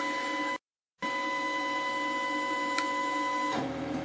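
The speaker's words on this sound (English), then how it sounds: "the machine will raise the head and move to the home position" A granite etching machine running eControl raises its head and travels to its home position, giving a steady close mechanical whir with a brief silent gap early on and no talk.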